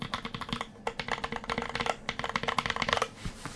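Rapid, steady typing on a custom-built Space 65 mechanical keyboard, close and crisp, with a dense run of clacky keystrokes and no talking.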